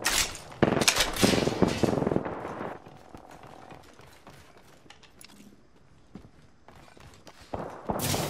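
Gunfire in the shooter game Apex Legends: a rapid loud burst of shots at the start, then quieter scattered movement and clatter, with another sharp shot near the end, no talking.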